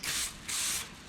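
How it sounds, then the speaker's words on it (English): Two short hisses of an aerosol spray paint can fire in quick succession, close and fairly quiet, each lasting about a third of a second. "test spray, nice and glossy"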